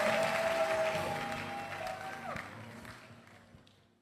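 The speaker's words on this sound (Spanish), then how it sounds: "Denle un aplauso." A church congregation in Accra, Ghana claps in a brief burst of applause that fades out over a few seconds, layered over lingering keyboard tones from the worship music.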